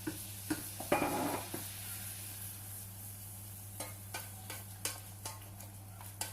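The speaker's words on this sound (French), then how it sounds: "Je mélange bien mon beurre." Flour is stirred into melted butter in a pan, making a quiet, steady sizzle with scattered light taps and scrapes of the spoon against the pan over a low hum. No one speaks.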